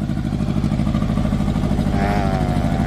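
A Mitsubishi diesel 8-wheel dumper truck pulls off in first gear on a farm plantation, its engine chugging loud and close in a steady, rhythmic idle-to-pull throb, with a brief rising whine near the end.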